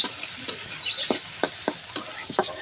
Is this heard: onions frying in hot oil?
yes